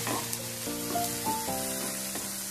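A steady, moderate sizzle of onion frying in a pan on low gas runs throughout, with soft tonal background music layered on top and a faint click or two.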